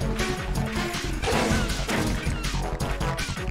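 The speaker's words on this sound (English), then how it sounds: "it made a huge shattering sound that was way more for a glass of wine" A wine glass shatters in Metal Gear Solid 2, a loud, dense crash with repeated smashing bursts over several seconds, overblown and heavy rather than a light tinkle, no voice.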